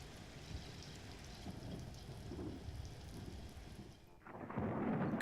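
Rain cloud with lightning in the PS1 Discworld game, giving steady rain and a low rolling rumble that gives way to a sudden louder crash of thunder at the end.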